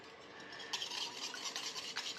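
A whisk stirs sugar into a French toast egg mixture in a bowl, giving quiet, rapid scraping and sloshing strokes that start after a soft pause and continue rhythmically to the end.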